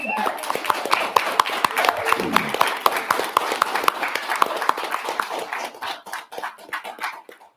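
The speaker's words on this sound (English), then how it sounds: "A very well-deserved round of applause for Grayling there." A crowd applauds a debate participant at a student event, steady dense clapping with sharp individual claps standing out, holding for several seconds before tapering off unevenly near the end.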